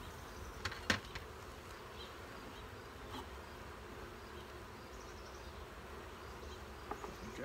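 Honeybees buzz softly inside a strong hive housed in a nuc box, a faint continuous hum with a few small knocks and clicks from handling the frames.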